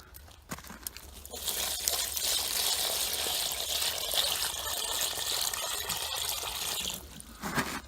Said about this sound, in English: Now that I picked up the paper, add some barrel water.